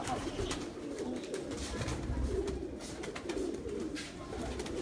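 Pigeons coo steadily on a rooftop loft, with overlapping low rolling calls from several birds running throughout at moderate volume against a constant background hum.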